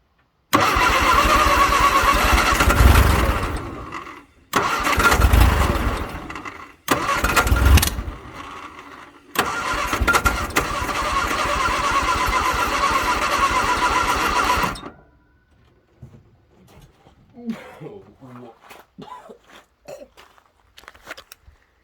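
A 1962 Vauxhall Victor that sat for 25 years cranks in several loud, close bursts, then catches and runs briefly before cutting out, leaving faint clatter and movement.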